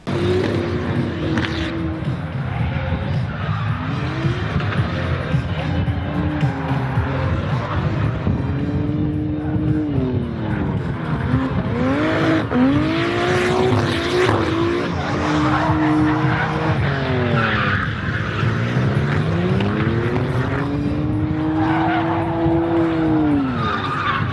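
A Nissan S14 makes a drift run, its engine revving and wailing up and down as the tires skid and squeal almost without pause, loud and sustained throughout.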